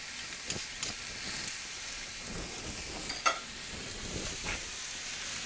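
Butter and food sizzle on a Blackstone griddle for hibachi, a close steady hiss broken by spatula scrapes and one sharp metallic tap, no voices.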